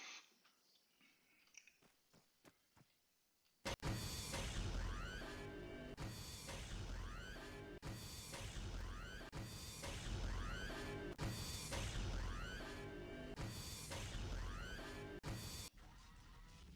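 Atlantis stargate dialing in Arma 3: a loud, sustained mechanical whirring and clunking sequence with repeated rhythmic surges, about every second and a half, after a quieter start with a few sharp clicks.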